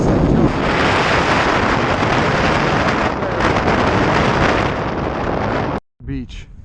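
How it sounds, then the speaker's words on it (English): Strong wind on an ocean beach roars into the microphone as a continuous loud buffeting rumble, then cuts out abruptly near the end, followed by a short voice. "It's still pretty windy."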